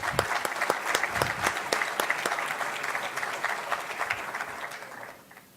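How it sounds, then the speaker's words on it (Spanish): Seminar audience at a biogas event applauding a speaker: a modest room of hands clapping, with individual claps audible, steady for several seconds before tapering off into quiet. "un aplauso para él"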